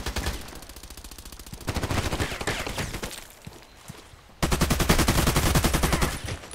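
Gunfire in the shooter game Contract Wars, bursts of rapid automatic fire in fast repeated rattles, a quieter pause, then a louder close burst near the end, with no talk.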